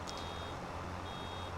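In-game vehicle warning beeps from Farming Simulator 25 while baling crop swath: a faint, steady electronic tone with a couple of short blips at the start, over a low engine-like drone.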